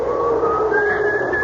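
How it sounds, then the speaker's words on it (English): Someone whistles a short, clear tune in a radio drama, the thin, steady notes sliding slightly upward over a soft background hiss. "and then I heard someone whistling"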